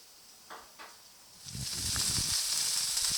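Burger patty frying in olive oil in a pan, with a faint early hiss that swells after a moment into a steady loud sizzle and crackle running to the end.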